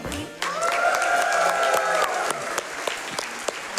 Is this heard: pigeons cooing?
no